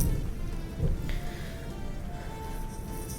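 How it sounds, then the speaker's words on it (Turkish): Rain falling outdoors in Sweden, a steady broadband hiss of drops on surfaces in a spring setting with bare trees, moderately loud and continuous with no talk. "İsveç'te yağmur yağdığı zaman çok güzel oluyor"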